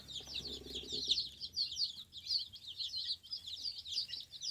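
Around fifty baby chicks in a brooder keep up dense, continuous high-pitched peeping, with a low rumble of handling noise near the start.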